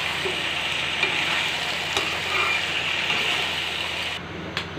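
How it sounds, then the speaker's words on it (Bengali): Meat sautéed with bay leaf, cardamom and garam masala for a potato and meat curry: a steady close sizzle with stirring scrapes and a few sharp knocks of the spoon, briefly quieter near the end. "মাংস দিয়ে দিয়েছি, এখন কষিয়ে নিয়ে ভালোভাবে"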